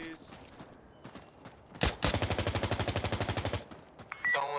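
Sustained automatic machine gun fire in the Insurgency Sandstorm video game: a single loud shot, then a rapid, evenly spaced burst of about twenty rounds lasting under two seconds, with quieter game sounds and voices before and after.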